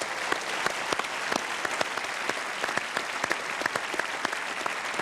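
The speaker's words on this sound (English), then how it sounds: "Please give yourselves a round of applause." A theatre audience claps in a sustained round of applause, dense scattered hand claps from a large crowd, steady and moderately loud with no voices over it.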